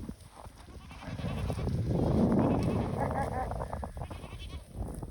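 Spanish goats bleating in bitter cold as they are herded toward hay, several overlapping calls close by, with a voice calling to them over the animals.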